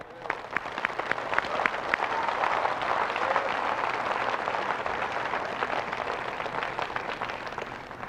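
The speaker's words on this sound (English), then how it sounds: "And all of us here applaud you for that." An audience at a speech gives steady, dense applause that holds at an even level for about eight seconds with no break.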